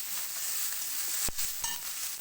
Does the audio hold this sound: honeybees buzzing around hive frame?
no